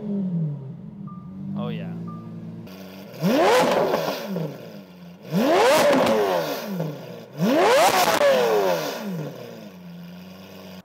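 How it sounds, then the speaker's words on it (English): Blue Lamborghini Aventador 50th Anniversary V12 starts with a loud bark, then three strong rising revs with pauses between, close up; someone speaks briefly at the start. "Now starting the car is pretty interesting."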